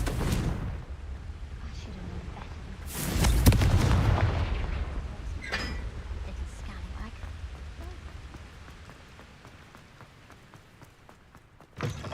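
A Confringo blasting spell bursts in Hogwarts Legacy with a single loud, deep boom and a rumbling blast tail, followed by softer crackles and debris-like patter fading over the following seconds.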